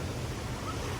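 Ocean waves break and wash continuously at Long Beach, a steady close rush of surf with wind buffeting the microphone, alone for a moment without voices.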